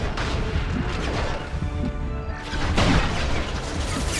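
A grenade blast in Mass Effect 2 lands amid ongoing combat noise, a loud close burst with a broad crash around the third second over continuous clatter.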